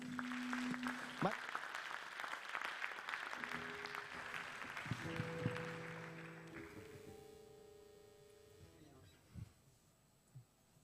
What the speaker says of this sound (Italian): noi cediamo a loro il palco con un applauso